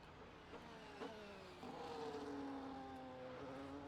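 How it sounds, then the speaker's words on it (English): Formula 1 race cars in a Monaco Grand Prix video game give a steady engine drone with rising whines as they rev through the gears. Several cars layer over one another at a moderate, even level. "I love the sounds of these cars"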